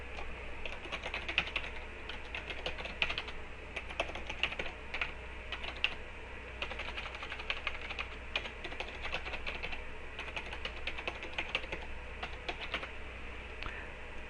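A computer keyboard is typed on continuously for a text entry in Crystal Reports 2020, giving quick, close, even key clicks with brief pauses.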